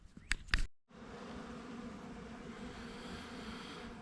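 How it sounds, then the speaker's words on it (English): Bees swarm over deer feed outdoors, making a dense, continuous buzzing hum that fills the scene at a steady level. A couple of short clicks or knocks come just before the buzzing starts. "These bees are hitting this feed as hard"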